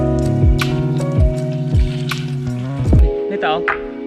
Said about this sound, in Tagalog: Buhusan natin ng tubig mga katropa para malinis.